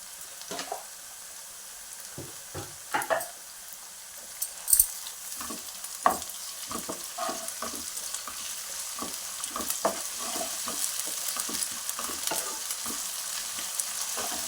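Freshly pounded ginger-garlic paste fries in hot oil for a capsicum curry, a soft continuous sizzle punctuated by scattered spatula taps and stirring knocks, close and fairly quiet, with no voices.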